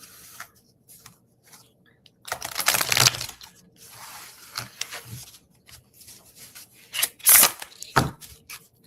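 Soft riffling and sliding of tarot cards being shuffled, with a couple of louder bursts of flicking cards and quiet gaps between.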